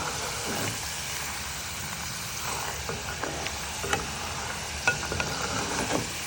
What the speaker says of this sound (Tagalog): na po natin ang ating boiled rambutan seed dito sa mainit na mantika